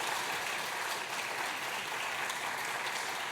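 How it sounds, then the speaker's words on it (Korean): A church congregation applauds certificate recipients at a Sunday service in a steady, even wash of many hands clapping from a distance, sustained for a few seconds with no voices. "수료증과 선물을 줄 때 박수로 축하해 주시기 바랍니다."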